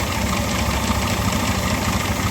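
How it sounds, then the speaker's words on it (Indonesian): Old Yamaha NMAX scooter engine running rough, a steady close idle with a gritty, knocking texture and no voices. "motor dinyalakan ya, ini pasti suaranya pasti kasar, tapi ini ada suara yang berbeda"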